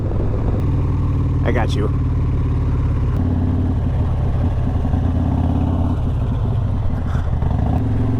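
A small Honda Grom motorcycle passes by on the road, its engine audible under steady wind rumble and nearby talk from a rider.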